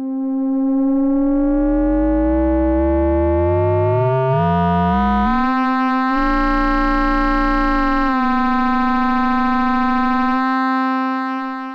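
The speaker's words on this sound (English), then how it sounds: "As I increase the mood index, we don't hear a lot for the first half of the control, but the second half, it really starts to kick in." A synthesizer voice runs exponential FM as the modulation index rises, so a clean sine tone grows into a dense, buzzy, shifting tone with sweeping partials. It is loud and sustained with no talk.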